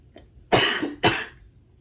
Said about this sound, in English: Sorry that I'm coughing, everyone.